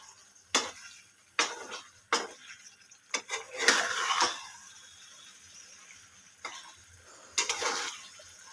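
Fish coated in mustard paste is stirred in a pan, with a spoon scraping and clinking against the metal in a series of sharp, separate strokes and short pauses between them.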